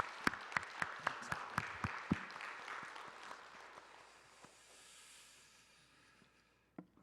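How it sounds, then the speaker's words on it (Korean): A church congregation applauds during a worship service, starting with a few sharp, distinct claps that swell into a soft, distant wash and fade away, with one more clap near the end. "우리 박수로 한번 크게 한번 격려하겠습니다"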